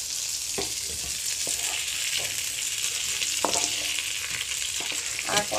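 Pointed gourd (potol) slices frying in hot oil give a busy, close sizzle, with intermittent clicks and scrapes of a spatula stirring the pan.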